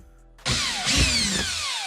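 A power drill backing screws out of a car tail light housing, one short close whir that starts abruptly and holds steady for about a second and a half, with no talk.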